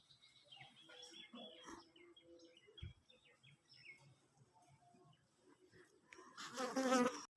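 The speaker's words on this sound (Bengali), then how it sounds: "ওর কিন্তু মৌমাছি চাক করতেছে" Bees buzz faintly around a hive in the trunk of a drumstick tree beside a corn field, a thin, steady drone with scattered bird chirps that swells louder near the end.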